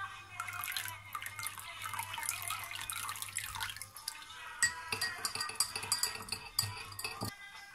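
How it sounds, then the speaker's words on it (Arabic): Orange blossom water poured into a glass while making oven-baked makroudh, a steady watery trickle with light clinks of glass and utensils throughout, close and fairly quiet. "عندي ماء زهر، باش نصب ماء زهر"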